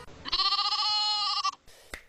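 A single sheep gives one loud, close bleat lasting just over a second, followed by a faint short sound, with no talk.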